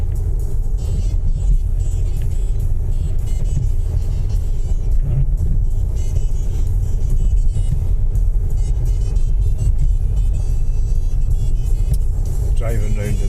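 Steady road rumble and engine drone from a car on the M9 motorway between Stirling and Edinburgh, continuous and loud throughout, with a person talking over it.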